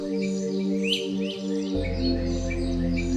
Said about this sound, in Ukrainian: Одна маленька пташка, можливо, синичка, тихо свистить свою мелодію.